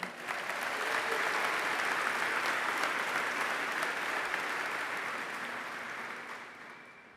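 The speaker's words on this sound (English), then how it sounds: "Please give them their efforts a well-deserved round of applause." A large audience applauds at a VFW national convention, sustained dense clapping that swells, holds, then slowly fades over several seconds.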